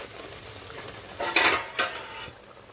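Masala for fish and paneer kofta fries in a covered pan, a low steady sizzle broken by two short scraping stirs of a utensil against the pan.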